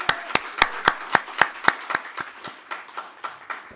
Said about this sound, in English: Morris Alfonso, a big round of applause, please?